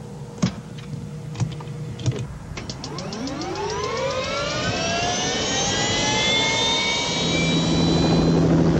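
A Bell JetRanger III helicopter's turbine engine spools up from a few clicks into a rising, whining roar that climbs steadily in pitch and builds to a loud, sustained drone.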